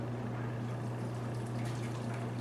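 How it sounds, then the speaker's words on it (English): Adobo sauce poured over chicken in a home kitchen, a steady liquid stream running continuously at moderate level, with a low steady hum beneath and no talking. "we're going to go ahead and pour this over our chicken"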